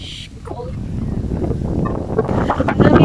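Gusty wind buffets the microphone outdoors at Nanda in Cebu, a steady low rumble that builds louder toward the end, with a brief voice and faint bird calls mixed in.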